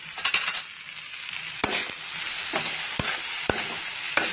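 Cluster beans (gwar phali) are stirred in a hot, sizzling pan, with a spoon scraping and clanking against the metal several times over steady frying hiss.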